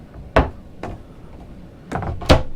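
A hanging locker door on a 1999 Azimut 100 superyacht thumps open once, then after a pause two more knocks and clunks of the door being handled, close and fairly sharp.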